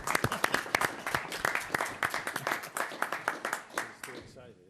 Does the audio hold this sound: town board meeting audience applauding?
yes